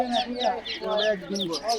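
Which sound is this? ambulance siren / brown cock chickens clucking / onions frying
brown cock chickens clucking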